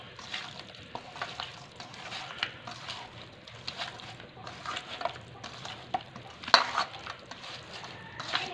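Chicken pieces are worked into a marinade of yogurt, garam masala paste and spices, producing soft wet squelches, scrapes and occasional clinks of a utensil against the bowl, quiet and irregular with no talk.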